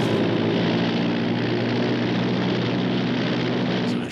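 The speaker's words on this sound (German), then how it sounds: "Das ist eine Kuriermaschine." A propeller courier aircraft flies low overhead before landing, in a 1942 Sherlock Holmes film: a loud, steady droning engine roar with a rumbling low hum that fills the whole clip.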